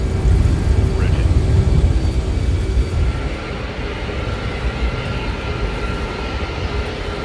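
A KC-135 refueling jet, a military tanker aircraft over 50 years old, roars with a steady broadband engine rumble that is loudest at the start and eases slightly, holding near and continuous throughout.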